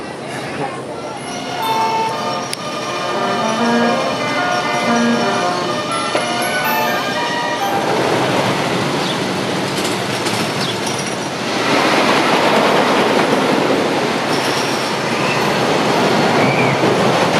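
The Phoenix wooden roller coaster at Knoebels runs along its track with a loud, continuous rumble and rattling clatter and occasional high squeals, while riders' voices come through over the roar.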